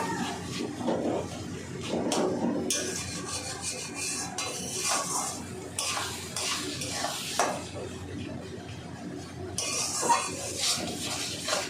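Mutton is sautéed in a pot, with a utensil scraping and stirring in repeated strokes over a soft sizzle and metallic clinks of the pot.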